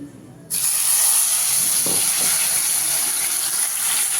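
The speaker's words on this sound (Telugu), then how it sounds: "ఉల్లిగడ్డ మిరపకాయలు అవన్నీ వేసేసుకుందాం ఆయిల్లో" Onions and chillies hit hot oil for a Telangana-style crab curry, bursting into a loud, steady sizzling hiss after a brief quiet start and holding at full strength throughout.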